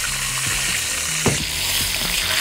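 Duck breasts fry in duck fat with butter, rosemary and garlic, an intense, continuous close sizzle with a sharp spattering crackle midway as the hot fat is basted over.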